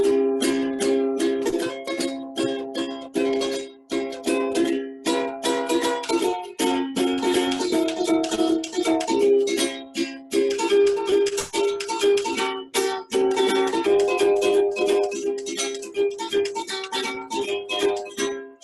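Harmonica plays a busy, jazzy 12-bar blues line with rapid chordal bursts and bends, steady and fairly loud throughout, no voices.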